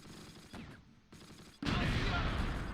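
Artillery and mortar fire in the WWII tactics game Close Combat, with muffled distant thuds early on, then a loud sustained rumbling barrage of explosions filling the second half.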